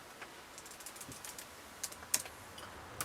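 Small plastic keys tapped on a Pico41 calculator, a quick run of faint clicks with a few sharper presses, close up and alone.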